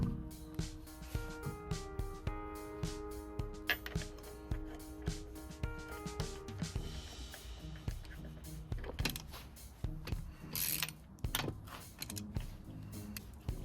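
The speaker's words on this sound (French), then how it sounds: "Remontez la roue et ses écrous." Mechanic refits the wheel and its nuts on a Volkswagen Polo IV, with rapid clicks and ratcheting bursts of a power tool spinning nuts, alongside tonal whirring and clanks, fairly quiet overall.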